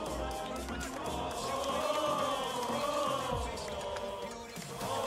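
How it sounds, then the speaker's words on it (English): A large stadium crowd at the Gamers8 2023 esports tournament, a Counter-Strike match between Falcons and NIP, sets up a steady, dense roar with rising swells of cheering and shouting throughout. "Just taking in the culture. Just taking in the crowd."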